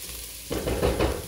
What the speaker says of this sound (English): just gonna sweat these off a little bit more.